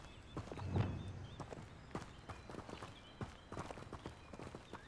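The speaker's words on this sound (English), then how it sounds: "That's a goat." Goat hooves clop and tap across ground in the video game Hogwarts Legacy, a faint, uneven series of light footfalls with one slightly louder thump early on.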